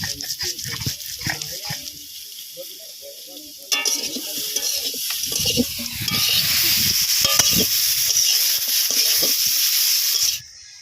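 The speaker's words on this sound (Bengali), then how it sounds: "বেগুন ভাজা হচ্ছে" Brinjal frying in hot oil, a sizzle that gets louder and denser partway through and then cuts off near the end, with a dog barking and some voices heard early on.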